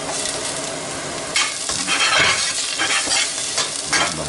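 Carrots and garlic sizzle and crackle in a hot pan while being stirred, with bursts of louder frying as ingredients shift.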